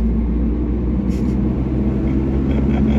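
A wrecked Subaru BRZ lugs along in too high a gear, giving a deep, steady low engine drone and rumble heard from inside the cabin, with no talk.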